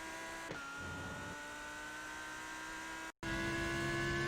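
A Lamborghini Huracan Evo GT3 in iRacing at Watkins Glen accelerates out of a turn with a steady, tonal engine drone. A short dropout breaks the sound, then it returns slightly louder and sharper.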